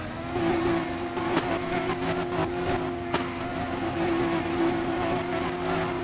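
Toyota Supra engine in a Roblox drift game holds a steady, droning rev with tonal harmonics, dipping briefly twice, continuous and fairly close for the whole stretch.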